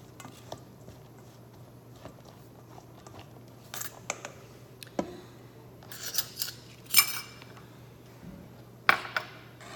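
Balsamic bruschetta mixture stirred in a bowl, soft close scraping and clinking of a utensil against the bowl in uneven bursts, quiet apart from a few sharper knocks.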